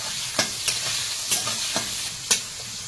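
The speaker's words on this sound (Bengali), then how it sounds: "এই মশলাটা একটু ভেজে নিয়ে এবারে পেঁয়াজ আর কাঁচা লঙ্কা" Spices frying in a pan ahead of onion and green chilli for a chicken curry, a steady sizzle broken by several sharp scraping stirs of a spoon against the pan, close and clear with no talk.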